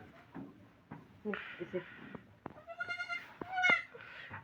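Several short, quavering bleats from a goat, fairly close, mixed in with scattered human voices and background noise.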